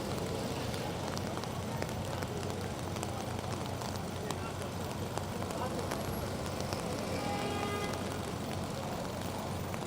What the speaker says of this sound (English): The rain is coming down heavier now.